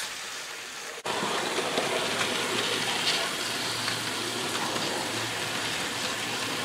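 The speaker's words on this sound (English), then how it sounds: "So as can be seen, this little loco can haul a load really well." Hornby Ruston 48 model locomotive in GCR green running along track, a steady faint whirring hiss that starts abruptly after a moment of quiet and continues evenly.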